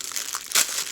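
A plastic bag holding a diamond painting craft kit is pulled open by hand, giving light crinkling throughout and one sharper crackling rip near the middle, close and fairly quiet with no talking.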